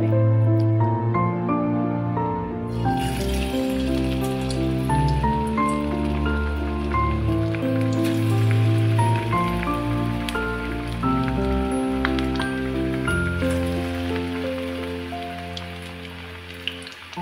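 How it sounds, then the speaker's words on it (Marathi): Onion bhaji (kanda bhaji) batter dropped into hot oil in a pan, sizzling and crackling steadily and close, with a cooking tune playing loudly over it throughout. "एक एक भजी, कांदा भजी आपण तेलामध्ये टाकूया"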